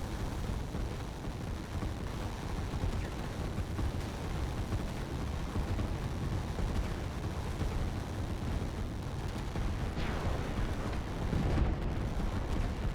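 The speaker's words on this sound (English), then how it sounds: "We live to watch buildings explode in this game." Buildings blow up in the strategy war game Line War. The result is a constant dense rumble of blasts and booms with no break, and a sharper burst rises near the end.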